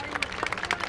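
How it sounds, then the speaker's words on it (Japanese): Audience applause at a YOSAKOI festival stage in a city plaza, a dense patter of clapping from a crowd at moderate distance with sharper claps popping out irregularly through the short burst. "大きな拍手でお願いいたします。"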